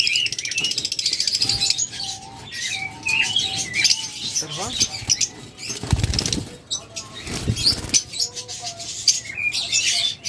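Caged pet birds such as lovebirds, budgerigars, doves and cockatiels chirp and tweet steadily at close range, with overlapping calls, occasional wing flaps and faint voices in places.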